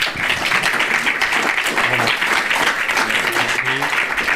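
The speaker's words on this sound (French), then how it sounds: "Ouais, bravo, vous pouvez l'applaudir." An audience at a business awards ceremony applauds a prizewinner, steady moderate clapping throughout with voices talking over it.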